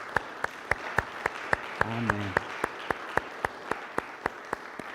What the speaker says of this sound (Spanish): ¿Le da un fuerte aplauso al Señor por eso?